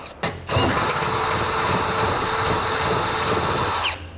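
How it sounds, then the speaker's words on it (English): A power drill with a 1/2 inch bit bores out bracket holes while a Draw-Tite Max-Frame trailer hitch receiver is installed. It gives one loud, sustained whine that starts abruptly, holds steady for about three and a half seconds and then winds down. "So I'm going to take my 1/2 inch drill bit, start to drill that out."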